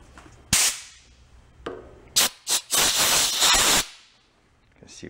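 An aerosol can of penetrating oil sprays onto a rusted go-kart part, giving a sharp hiss and brief bursts, then a sustained spray of about a second up close, with low voices in between.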